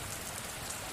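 Rain falls in a steady, even hiss of dense drops, soft and continuous, with no voices.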